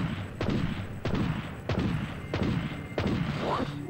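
Gunfire in MediEvil 2 aimed at a small, darting octopus-like head: four or five evenly spaced booming shots, each with a sharp attack and a short ringing decay, loud and close.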